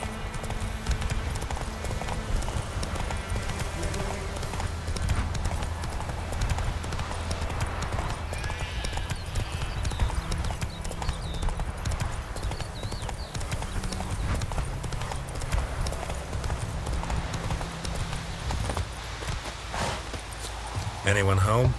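Steady clip-clop of the horse Roach's hooves walking in The Witcher 3: Wild Hunt, a continuous rhythmic plodding heard throughout alongside game music and ambience, with voices talking over it.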